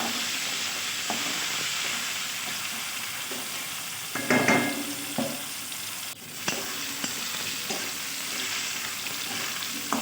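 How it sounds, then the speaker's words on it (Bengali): Potatoes frying in hot oil in a pan, a steady close hiss and crackle throughout, broken by a few clanks of stirring near the middle. "খুব সুন্দরভাবে আমি ভেজে নেব আলু"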